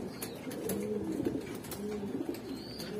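Pigeons of a Baki line racing pair coo in low, soft repeated phrases, close by, over a faint background hiss with a few light clicks and no speech.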